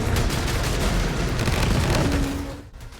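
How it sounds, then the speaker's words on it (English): Piercing weapon trait shots in Returnal burst into loud, dense explosions, a heavy booming barrage that rolls on continuously before tailing off into a fading rumble near the end. "the explosion makes this very satisfying to use"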